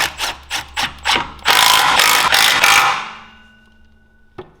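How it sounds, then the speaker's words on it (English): A ratchet with a 1/2 inch socket tightens bolts on an engine backing plate. It sounds up close as a few short bursts of clicking, then a stretch of fast, steady ratcheting, and it ends with one faint clink. "So we can tighten up all these using a 1/2 inch."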